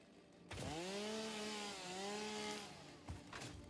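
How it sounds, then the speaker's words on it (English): A loud chainsaw in the factory-building game Satisfactory revs up with a sharp start, holds a buzzing whine that dips and rises briefly, then cuts off with a couple of clunky bursts at the end. "Also, yes, the chainsaw is really loud."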